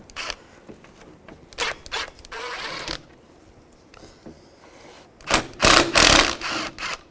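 Screws are backed out of the radiator on a 2005-10 Volkswagen Jetta, giving a series of short mechanical ratcheting and whirring bursts, close and fairly loud, with quieter gaps between and a longer, louder burst near the end.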